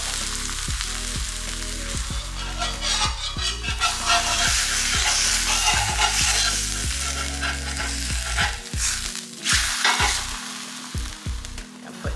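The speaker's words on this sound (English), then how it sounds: "we're going to put the tortilla on the hot pan" Corn tortilla dunked in birria fat frying on a hot pan, a steady loud sizzle with crackling bursts, alongside a low musical background bed.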